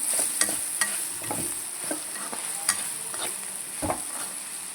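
Spices, peanuts and sesame are stirred into cluster beans frying in a pan, with scraping spoon strokes at irregular intervals over a steady close sizzle.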